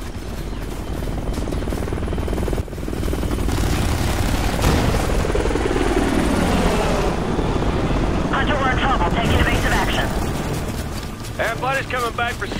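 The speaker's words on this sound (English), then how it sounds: "Hostile chopper inbound. 3 o'clock." A hostile helicopter approaches in the Ghost Recon video game. Its rotor rumble is loud, steady and broadband, swelling after a brief dip and holding. Some short radio-like voice chatter overlaps near the end.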